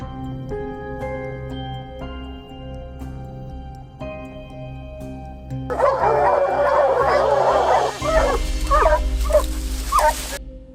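Hunting dogs trained to track bear scent bark during a bear hunt: a burst of loud, overlapping barks and yelps enters midway over steady background music, close and persistent to the end.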